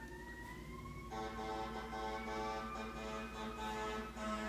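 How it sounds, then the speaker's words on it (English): Wailing sirens rise and fall in the distance, joined by a second siren partway through, steady and continuous over faint background noise. "I don't know if y'all hear these sirens."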